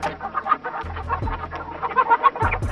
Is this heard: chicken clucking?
yes